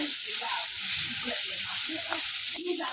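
Eggplant slices fry in a pan with a steady, dense sizzle and hiss that holds throughout, with faint low clatter beneath.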